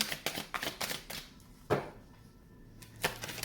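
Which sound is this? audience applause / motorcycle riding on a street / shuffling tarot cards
shuffling tarot cards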